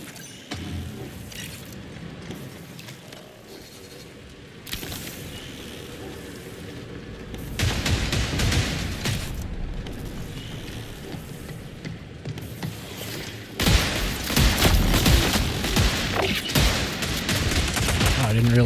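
Semi-automatic gunfire in the Marathon video game, with rapid bursts of loud shots that grow denser and heavier in the second half, over a noisy, busy battle soundscape.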